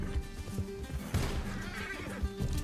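A horse whinnies over the thud of galloping hooves in Red Dead Redemption 2, with a busy rumbling game soundtrack running underneath.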